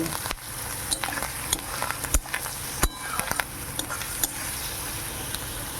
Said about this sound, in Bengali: এইবার এটা ভালো করে নাড়তে থাকবো ভালো করে নেড়ে নিচ্ছে